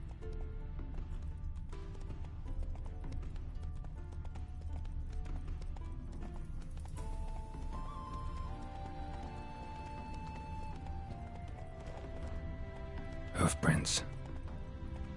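Roach the horse from The Witcher 3, hooves clip-clopping in a steady rhythm throughout, with game music and ambience and a louder burst of sound near the end.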